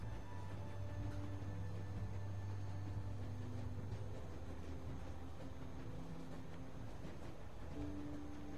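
Train rolling along in The Walking Dead: Season 1 on PS4, a continuous low rumble with steady droning hum and faint metallic tones, alone without talk.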